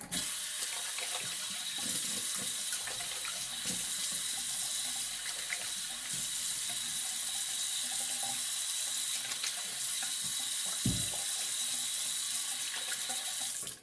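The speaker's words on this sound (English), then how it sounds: "Let me just rinse this off." Water runs steadily from a tap while a brush is rinsed beneath it, a close, constant splashing hiss with a brief knock near the end and no talk.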